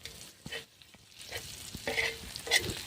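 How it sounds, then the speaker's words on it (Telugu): Village-style spiced fish deep frying in oil, giving a soft continuous sizzle with several brief stirring scrapes and clinks in a short, fairly quiet stretch. "మంచిగా డీప్ ఫ్రై అయినాక తీసుకోవాలి"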